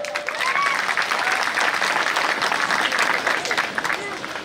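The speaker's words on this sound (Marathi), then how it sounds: "जरा जोरात वाजवा टाळ्या" Audience applause at a Buddhist Dhamma conference, a dense steady wash of many hands clapping that sustains through the whole stretch with crowd murmur mixed in.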